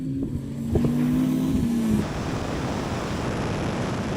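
A Porsche Turbo S launches hard in a drag race against a Ferrari SF90 and a Tesla Model S Plaid, giving a loud engine note with a steady tone that gives way after two seconds to heavy wind and road roar.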